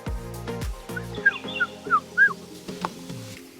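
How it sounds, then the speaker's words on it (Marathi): A dog accompanying trekkers at a hill fort lets out a few short whimpering yips and whines close by, with faint bird chirps nearby. "असे हे कुत्रे प्रत्येक ठिकाणी आपल्याला मिळतात प्रत्येक गडावर असतात"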